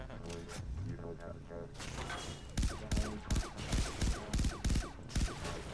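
Gunfire from a weapon in the video game Far Cry 3 Blood Dragon, with a run of evenly spaced loud shots in the latter half over dense game sound and music.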